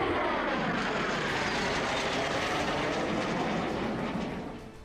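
Rafale fighter jet flying, a loud broadband jet roar filling the clip steadily and starting to fade away near the end, with no voices.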